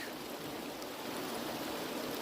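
Mountain river water rushing and splashing around a rock, a steady, dense broadband roar close by with no pauses and no voices.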